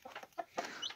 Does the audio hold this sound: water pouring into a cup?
no